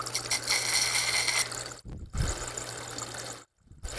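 A wet sharpening wheel turns in water with a steady motor hum and light watery trickle. The sound cuts out sharply twice before resuming.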